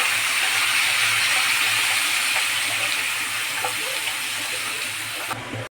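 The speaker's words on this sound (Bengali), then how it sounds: "এর মধ্যে আমি জল দিয়ে দেবো।" Water is poured into a cooking pan of pumpkin greens, making a steady, close rushing gush that runs evenly for several seconds before stopping abruptly, with no one talking.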